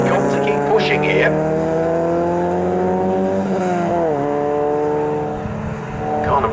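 Tin-top touring race cars pass at Snetterton circuit during a CSCC Co-ordSport Tin Tops Series race, a loud sustained engine drone with a falling pitch shift as they go by, under a commentator's voice.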